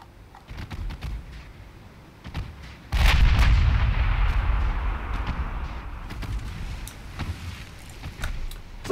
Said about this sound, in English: 5-inch guns haven't done badly at all. Pretty much wrecked that destroyer by themselves.